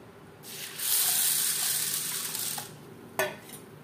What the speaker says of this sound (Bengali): ডাল বেশ পরিষ্কার করে ধুয়ে নেওয়ার পরে দিয়ে দেব জল।